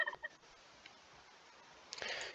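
Turkeys in Age of Empires II give faint, brief gobbling bursts at the start and again near the end, with a quiet gap between.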